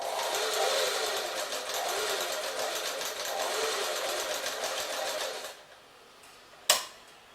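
A sewing machine stitching a chudidhar seam, a steady close whirring run of rapid needle strokes lasting several seconds, then stopping, followed by a single sharp click.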